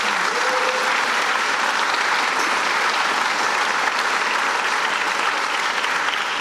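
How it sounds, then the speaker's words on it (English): An audience at a governor's announcement for a New York business association gives sustained, even applause: a dense wash of many hands clapping that fills the whole stretch without a break, with no speech over it. "Let's give him a round of applause."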